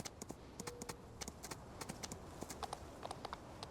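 Horse hooves in Farming Simulator 19 clip-clop quickly and evenly on asphalt, a brisk rhythmic trot of crisp, close taps with a faint hum beneath.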